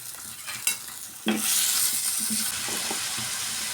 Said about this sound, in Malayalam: ഉള്ളി ക്രഷ് ചെയ്ത് കൊടുക്കാം